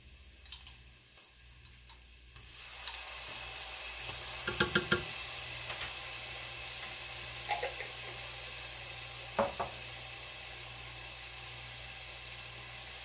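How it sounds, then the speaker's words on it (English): Garlic cloves drop into a pan of caramelized onions and start a steady sizzle that rises abruptly and holds, broken by a few sharp ticks and clinks of a utensil, with no talking. "All right, I got the onions caramelized. That took about 20 minutes. Now I'm going to add 2 cloves of garlic."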